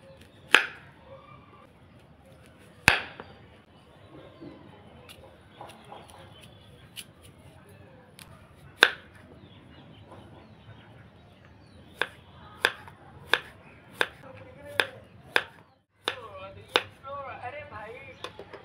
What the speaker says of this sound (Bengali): प्रथमे आपेलटा केटे नेब।